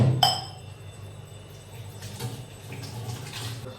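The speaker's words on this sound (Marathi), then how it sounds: "भांडे वगैरे धुवून घेतो" Dishes being washed in a home kitchen sink: a bright clink of glass or steel at the start, then running tap water and soft handling noises continuing close by, with no one speaking.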